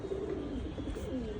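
A fitki pigeon coos in soft, low, rolling calls over a quiet background, close by and without talk.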